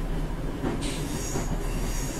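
Class 150/2 diesel multiple unit pulling into Liverpool Lime Street in Train Simulator 2015, a steady rumble of rolling wheels with a bright squeal of wheels on rail rising partway through, no voices.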